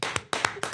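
Three separate bursts of clapping on a talk-radio sports show, sounding like a few brief rounds of hand claps close to the microphone, each fading quickly into short gaps.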